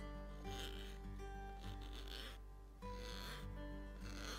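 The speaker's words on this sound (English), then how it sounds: "Simply scrape it from the bottom of the sieve and add it into your juices." A spoon scrapes hawthorn berry residue off the underside of a sieve in a series of short rasping strokes, heard under steady background music.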